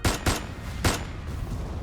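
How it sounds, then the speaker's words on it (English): Bursts of gunfire as a dramatic effect in an audio drama, three sharp cracks in quick succession with echoing tails fading into a reverberant haze, sounding distant. "A burst of intense gunfire resounded in the distance."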